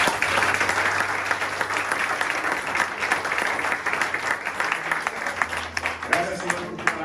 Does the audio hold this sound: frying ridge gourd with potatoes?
no